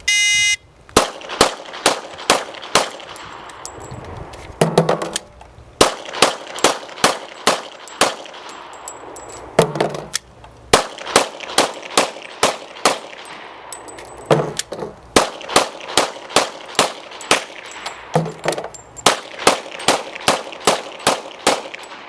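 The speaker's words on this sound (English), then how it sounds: "Now Jim's going to demonstrate shooting 5 6-round magazines." Rapid gunfire as a shooter empties five 6-round magazines: loud, close shots in quick strings of six, separated by short pauses and metallic clatter of magazine changes.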